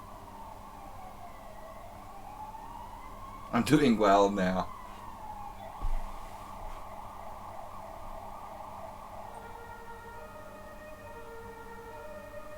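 A French-style police car siren sounds outside in a steady two-tone pattern, moderately distant, broken by a sudden loud clatter and a brief thump close by, with a short spoken phrase.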